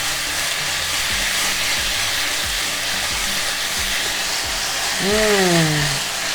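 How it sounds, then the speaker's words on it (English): Beef for beef chow fun sizzles loudly in a hot pan as it is stirred and tossed, a dense, continuous hiss close up, with a brief rising-and-falling whine near the end. "Just stir the beef, give it a toss."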